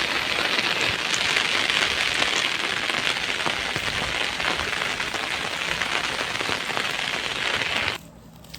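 Heavy downpour during a day of about 14 inches of rainfall, with floodwater across roads and fields, roars as a dense, steady hiss close by, then drops away abruptly near the end.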